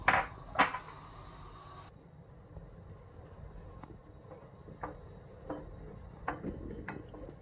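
Chopped onions being stirred in olive oil in a pan, with a couple of sharp utensil clanks at the start, then soft intermittent scrapes and taps over a low sizzling hiss, close and moderately quiet.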